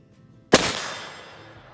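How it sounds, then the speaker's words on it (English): A single loud, close black powder shot from an Armsport Kentuckian rifle loaded with a 90-grain powder charge, a sharp blast followed by a long decaying boom. "Here we go, shot number 3. I've increased the powder charge to 90 grains."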